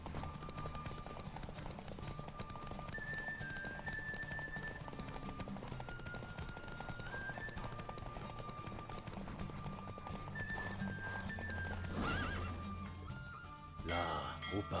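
Rhythmic hoofbeats of a horse clip-clopping along in The Witcher 3: Wild Hunt video game, with a neigh and a steady music bed and some voices mixed underneath.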